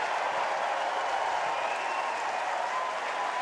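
Baseball stadium crowd at a Minnesota vs. Oregon State college game cheers steadily after a strikeout ends the inning, a broad, sustained roar of applause and voices filling the whole stretch at even loudness.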